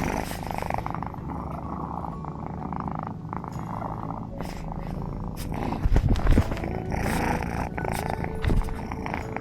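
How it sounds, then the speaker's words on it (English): A cat purrs steadily and loudly up close, a continuous rumbling drone with a brief louder burst of rustling partway through. "purring his head off"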